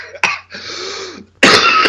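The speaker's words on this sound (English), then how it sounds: "Cough right into the mic." A man coughs right into a close microphone, with a short sharp cough followed by a longer throaty rasp and then another loud burst, all alone and very near.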